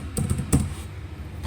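Keys on a computer keyboard clatter in a few quick bursts while entering accounting data, close and moderately loud, with short pauses between the taps.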